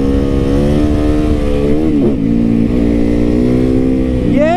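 Motorcycle engine revving hard while the rider pulls wheelies, a loud, steady, close engine drone with rising and falling pitch sweeps and no talk over it.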